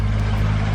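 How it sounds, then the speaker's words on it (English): Boat engines run under way while cruising toward Great Keppel Island on the Great Barrier Reef, a loud steady low-pitched drone with constant hum and no voices. "So I turned the engines on with 12 miles to go."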